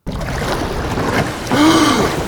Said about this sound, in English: If you just listen to this water sound right here and just add like little layers